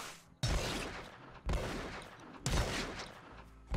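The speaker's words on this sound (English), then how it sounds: "Give me my combat shotgun." Combat shotgun blasts in the GRAV video game, three or four loud booming shots about a second apart, each with a long noisy decay, close and unaccompanied by talk.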